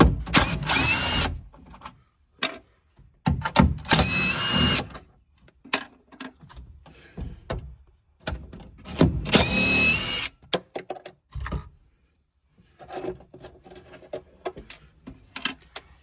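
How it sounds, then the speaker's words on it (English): Small impact gun spinning off a 10 mm nut holding a Ford Mustang taillight, loud bursts of whirring broken by pauses and clatter, close up with no talk. "So let me get a deep well socket and get that off. What size is it? Ooh, we got lucky. Looks to be a 10 millimeter. I'm gonna use my little impact gun here."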